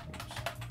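Typing on a computer keyboard at a desktop: quiet, quick key taps in an irregular run, faint and close, with no voices over them.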